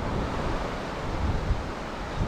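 Wind and ocean waves at the sea during a Hawaii fishing outing, a steady broadband roar with low surging swells and gusty buffeting on the microphone, continuous with no voices.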